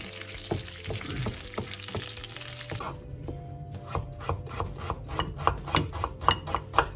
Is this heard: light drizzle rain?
no